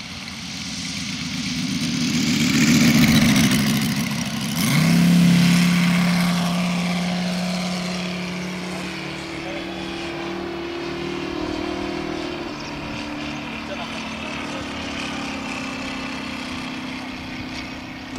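A Moki 150 radial engine on a Ziroli Stearman model biplane drones steadily overhead in flight, its throttle swelling twice early on and then settling to a lower, even hum that carries on for the rest of the pass.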